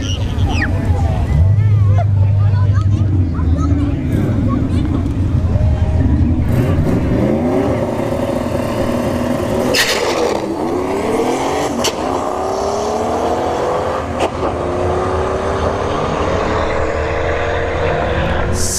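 A turbocharged New Edge Ford Mustang makes a drag racing run at ShowTime Dragstrip, with a loud, continuous engine roar and rising and falling revs throughout.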